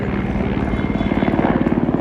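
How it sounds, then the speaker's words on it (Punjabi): Military helicopter passing overhead near a forest, a steady loud rotor thump and engine drone with rapid rhythmic beating throughout, no talk. "ਹੈਲੀਕਾਪਟਰ"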